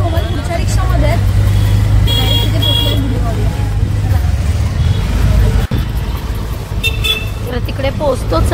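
An auto rickshaw rumbles through busy street traffic on the way to the Kurla festival, with a steady low engine drone, repeated car horns tooting nearby, and people talking over the noise.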